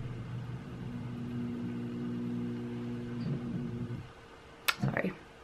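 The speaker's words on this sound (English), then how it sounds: "you can hear my garage opening and closing right now" Garage door opening and closing heard from inside a home: a faint, steady motorized hum drones for several seconds, stops, then gives way to a couple of brief clunks and rattles.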